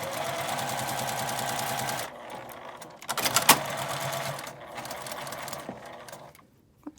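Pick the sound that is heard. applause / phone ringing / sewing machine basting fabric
sewing machine basting fabric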